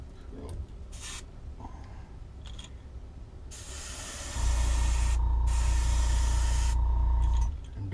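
Spray bursts of paint hit a purple and green frog popper fishing lure, with short hissing puffs at first, then a long steady hiss accompanied by a low rumbling hum.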